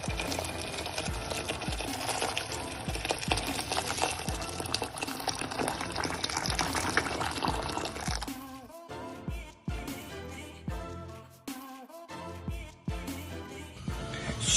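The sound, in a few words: potatoes being put into a pan of water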